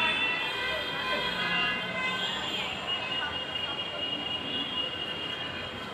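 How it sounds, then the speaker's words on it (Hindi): A continuous wailing ambulance siren rises and falls over steady rumble on a crowded metro train, with crowd chatter throughout. "एम्बुलेंस आ गई, क्या हो गया वहाँ?"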